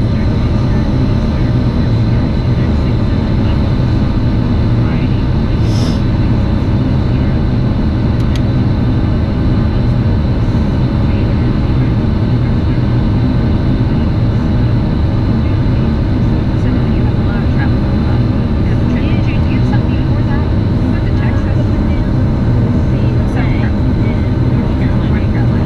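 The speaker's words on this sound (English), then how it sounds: "That plane goes." An airplane passes with a loud, steady low engine roar that fills the whole stretch, heard up close with a constant rumble and faint voices underneath.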